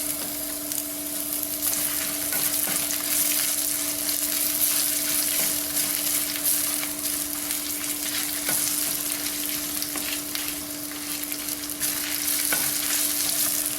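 Ginger and garlic frying in a pan for a broccoli kurma curry, a steady close sizzle with scraping stirs and a constant tonal hum underneath, no speech.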